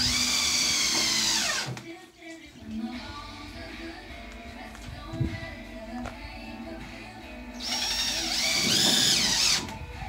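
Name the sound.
power drill driving screws into a chicken coop floor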